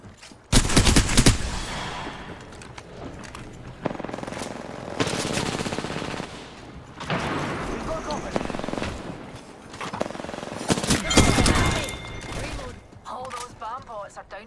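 Video game gunfire in Apex Legends comes in loud automatic bursts separated by short pauses. There are sharp single shots and mechanical clatter, and faint voices are heard between the bursts.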